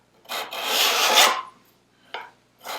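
A metal file is drawn along the edge of a steel card scraper blade in a long, close, gritty rasping stroke, followed by two shorter scrapes.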